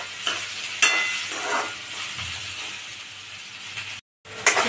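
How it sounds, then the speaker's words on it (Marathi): Okra pieces fry in hot oil in a pan, giving a steady, loud sizzling hiss broken by a few stirring scrapes and a brief gap. "आता आपण भेंडी पहिला भाजून घेऊया। भेंडी आपण खरपूस थोडी भाजून घेऊया।"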